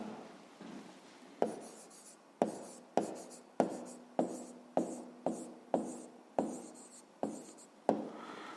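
Pen strokes scratch across a notebook page in short, separate bursts, roughly a dozen in steady rhythm, close and fairly quiet, as an answer is written down for a 5th-grade math exercise.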